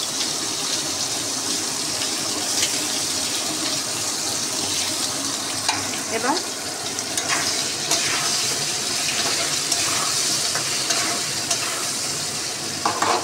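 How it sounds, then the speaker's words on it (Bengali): Steady sizzling of tomatoes frying with intermittent stirring and scraping in a pan, close and fairly loud throughout. "টমেটোগুলো একটু ভেজে দিচ্ছি।"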